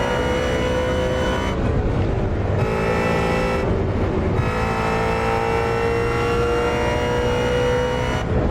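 Mustang GT350 engine in the Assetto Corsa racing game, a loud continuous drone that drops in pitch and returns through downshifts, with short gaps where the revs change.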